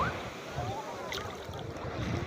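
Ocean waves breaking on a beach, a steady broadband wash of surf with wind noise running throughout, while a voice and some faint talk come through over the water.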